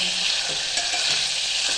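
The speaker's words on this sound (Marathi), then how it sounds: "त्याच्यामध्ये आता थोडंसं तेलामध्ये परतवून घेऊया आपण दुधी भोपळा" Bottle gourd pieces sautéing in hot oil, a steady bright sizzle with soft stirring scrapes, close and continuous with no voices.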